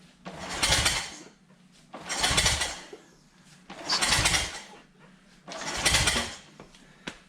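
Ducati Testastretta engine turned over by hand through the rear wheel during a timing belt job, four slow rhythmic whooshing swells of rotation at even intervals, close and moderate with no speech.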